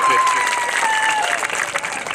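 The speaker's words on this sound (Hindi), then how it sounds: "एक बार जोरदार तालियां बजा दीजिए" Vigorous, continuous applause from the audience at an evening Urdu poetry mushaira in Mau, a dense steady roar of many hands, with a thin tonal whine running through it.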